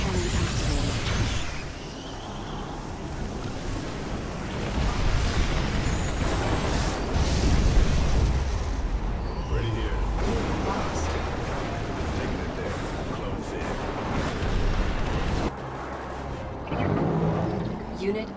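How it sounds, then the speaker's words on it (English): An ion cannon strike in Command and Conquer 3: Tiberium Wars lands as a loud, sustained roaring blast with deep rumble and crackling debris, with in-game voice announcements layered over it. "Ion cannon activated."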